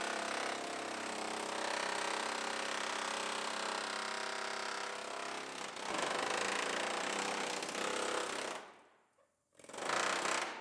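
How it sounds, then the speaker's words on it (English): Bondo filler being chipped out of a previously repaired, rebuilt Chevrolet Terrain body: a loud, steady, rapid mechanical hammering that runs about eight seconds, cuts out briefly, then starts again. "So we're chipping out more Bondo than we are metal at this point."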